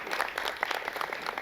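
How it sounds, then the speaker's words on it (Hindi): Audience at a stage play clapping for the director, a short burst of dense applause heard from a moderate distance, fairly soft, with no talk over it. "मैं चाहूँगा कि एक ताली हो जाए"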